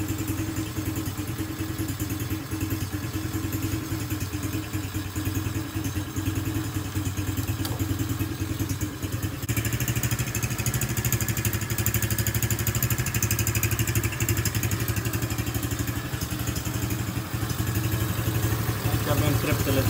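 A 125 cc Raptor ATV engine idles steadily and loudly up close for the whole stretch, a rapid even chugging with a faint mechanical clatter that grows slightly rougher midway.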